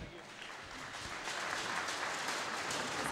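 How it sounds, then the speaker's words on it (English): Audience applause for Andrew, a swimmer, at the British Gas Swimming Championships pool, a dense, steady wash of clapping that builds slightly and holds for about three seconds, with some crowd voices mixed in. "let's have a massive round of applause for Andrew"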